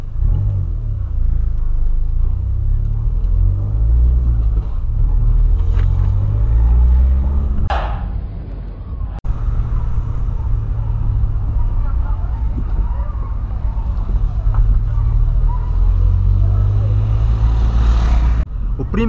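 A Volkswagen Polo on new tires drives along with a low, steady engine rumble and road noise throughout, a brief whoosh of passing traffic midway, and someone talking over it from inside the car.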